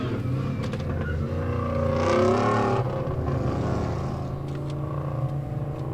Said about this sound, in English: We got a Mustang finishing up.